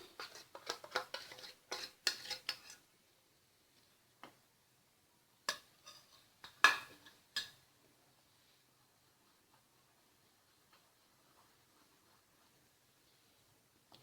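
A spoon stirs sugar and mango paste in a pot for mango payasam. A quick run of close scraping clinks comes first, then sparse single knocks that fade into near silence.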